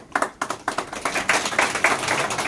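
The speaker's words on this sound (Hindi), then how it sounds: "लोकल ट्रेडिशनल तालियों से स्वागत कीजिए" Audience clapping in welcome at a BJP programme in Kargil, a burst of many hands that starts sparse, swells into steady applause and carries on without talk.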